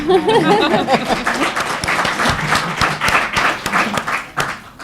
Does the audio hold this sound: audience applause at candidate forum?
yes